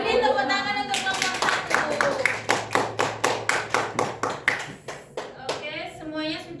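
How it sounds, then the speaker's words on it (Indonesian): A classroom of children claps for a group, building into a rhythmic round of sharp, evenly spaced claps after talk at the start, with voices returning at the end. "Beri tepuk tangan untuk kelompok"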